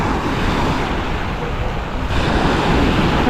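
Strong ocean waves break on a Miami beach at high tide in a loud, continuous roar of surf mixed with heavy wind buffeting the microphone.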